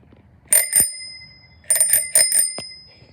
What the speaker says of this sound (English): The bell does work. Let me see if I can play the bell.